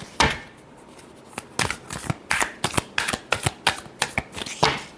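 Tarot cards are shuffled by hand in a quick series of crisp riffling bursts, about a dozen close, sharp flicks in an uneven rhythm, with no voices.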